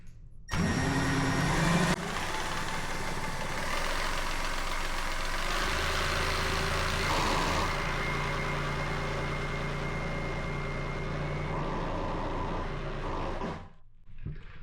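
A 3D printed pulley gearbox on a micro hydro turbine motor strains under too much torque, a loud continuous rough mechanical whir and drone with shifting pitch that cuts off abruptly at the end.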